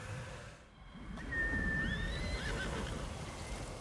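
A horse whinnies in the Ghost of Tsushima video game, one high drawn-out neigh rising over a soft rustling outdoor ambience, moderately close but fairly quiet.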